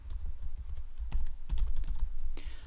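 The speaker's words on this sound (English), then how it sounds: "I'm just going to type in a few names." Names being typed on a computer keyboard, a quick run of close, clicky keystrokes with a few louder taps, no talking.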